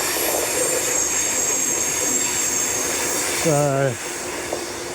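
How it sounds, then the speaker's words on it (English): A train passes along a railway line beside a road in the Blue Mountains, heard as a steady broad rumble with a brief squealing tone near the end before it fades; a voice speaks briefly. "And there goes the train."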